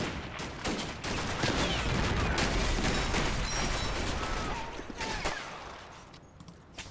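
Infantry rifle and machine-gun fire crackles in the Combat Mission wargame, a dense run of sharp, overlapping shots at mid distance, thinning out and fading toward the end.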